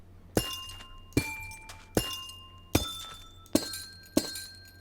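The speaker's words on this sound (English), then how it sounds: "breaking the pentaract makes a cool sound" Six sharp glassy shattering bursts ring out at a steady pace as a block breaks in Minecraft, each with a bright ringing tone that fades quickly.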